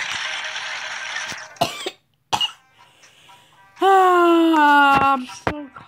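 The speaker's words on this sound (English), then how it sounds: "so coughing for the first time" Coughing from a character in the video game Bad Piggies, a few short harsh bursts near the start followed by a long, tonal wheezing cough-like sound, loud and close with no talk over it.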